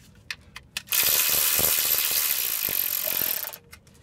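A hand ratchet tightens the transmission pan bolts on a GM 4T40E/4T45E automatic transmission: a few sharp clicks, then a loud, dense burst of rapid ratcheting that lasts about two and a half seconds and stops abruptly, followed by a couple more clicks.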